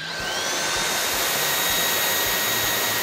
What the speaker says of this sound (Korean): 자, 두 번째 청소기를 가져왔고요.